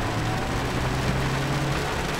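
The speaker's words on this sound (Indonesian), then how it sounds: "ya, malam-malam di tengah hujan" Heavy rain falls at night in Pekanbaru, Riau, a dense, steady hiss of downpour that holds evenly throughout with a low hum beneath it and no voices.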